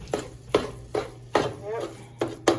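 A ground chicken and spinach lasagna filling is stirred in a bowl with a utensil, giving six or so regular scraping, clattering strokes about half a second apart, close and moderately loud.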